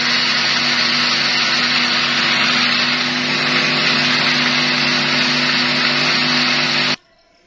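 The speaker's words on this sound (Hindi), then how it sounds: "हम 3-4 बार अच्छे से ब्लेंड कर लेंगे" An electric blender runs loud and steady for about seven seconds, whirring as it blends fresh strawberries into a milkshake, then cuts off abruptly into near silence.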